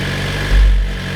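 A 2017 Suzuki GSX-R1000R engine runs with a steady low hum that swells briefly as the clutch is let out, then settles back, close and fairly loud with no voices.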